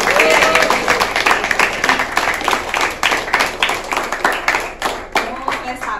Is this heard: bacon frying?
no